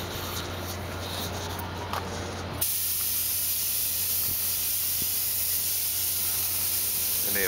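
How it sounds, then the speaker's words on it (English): A continuous, close spray hiss from spray painting a rat rod car starts abruptly and holds steady, following a quieter stretch of fainter hissing and light scraping. "here we have Brian spraying the beast"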